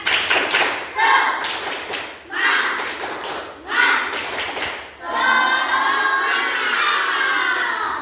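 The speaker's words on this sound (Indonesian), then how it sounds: "untuk menambah semangat kita tepuk semangat dulu ya" A classroom group performs the rhythmic 'tepuk semangat' spirit clap, with sharp patterned claps and thumps in short bursts mixed with chanting voices, ending in a sustained stretch of children's voices.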